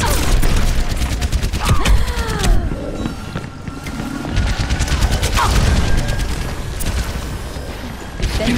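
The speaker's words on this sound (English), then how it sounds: "Sentry turret placed." Symmetra's sentry turrets fire in Overwatch amid a chaotic match: dense, rapid crackling bursts of weapon fire with booms and impacts run loud through the whole stretch, with game voice lines faintly mixed in.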